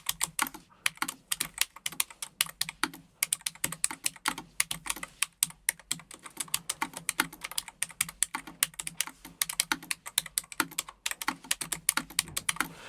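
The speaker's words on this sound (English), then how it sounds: "These are low profile keyboards, and this is the red switches." Steady, fairly quick typing on a low-profile mechanical keyboard with red switches, soft, muted keystrokes in an even rhythm, close up and with no voices.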